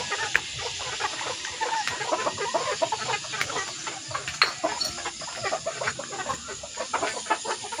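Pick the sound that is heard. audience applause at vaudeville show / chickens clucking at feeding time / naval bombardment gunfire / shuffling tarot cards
chickens clucking at feeding time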